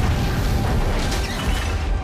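A Forerunner ship detonates in the video game Halo 2, a loud, sustained roaring blast that fills the clip with dense rumbling and crackling and has no break.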